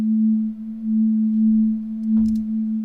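A sampled synth pad drones on one steady sustained low tone with reverb, smooth and unbroken, with a brief soft thump near the end.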